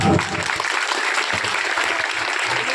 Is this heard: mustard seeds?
no